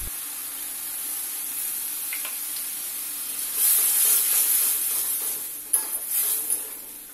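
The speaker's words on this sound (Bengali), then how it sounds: "এখন আমি দিয়ে দিচ্ছি সর্ষে বাটা জল" Mustard paste water is poured into a hot pan of cooked-down tomatoes for pabda fish curry, a faint background hiss swelling into a louder, bright sizzle, followed by a few clinks and scrapes.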